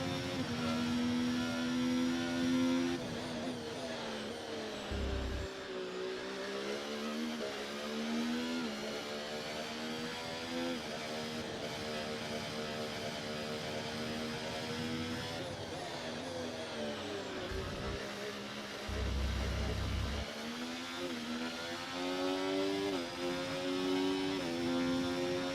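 A Formula 1 car engine in a racing video game at the Bahrain circuit, with a sustained high whine that rises and falls through gear changes and braking, with a few low thumps.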